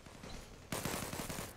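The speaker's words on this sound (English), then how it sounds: "Stop firing at me!" Distant gunfire from the online shooter Zula rattles faintly, a quieter stretch of shots giving way to a denser burst of rapid rounds partway through.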